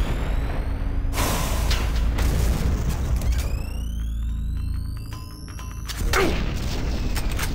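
Grenade blast in the Doom 3 co-op game: a loud booming explosion early on with a rumbling tail, mixed with sweeping synthetic game sounds and a second heavy hit near the end.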